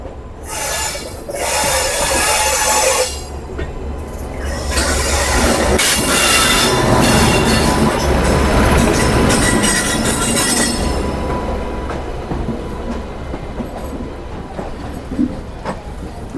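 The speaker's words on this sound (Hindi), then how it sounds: "और ये सामने की तरफ से हमारी कोई ट्रेन आ रही है" An oncoming Link Express train passes at Chandausi junction, a steady loud rumble of wheels and wagons with squealing and rattling that swells through the middle and eases toward the end, with no talking.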